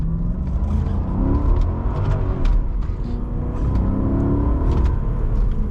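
Engine of a 2006 Maserati Quattroporte M139 accelerating through a gear shift, a steady close low rumble and revving drone heard from inside the car, with no talking.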